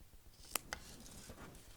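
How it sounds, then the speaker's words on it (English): Scissors trim the fabric at the corner point of a sewn zipper pouch: two quick, crisp snips sound close together, followed by a fainter third, all quiet in a calm room. "you're going to take your scissors and you're going to trim off this point here"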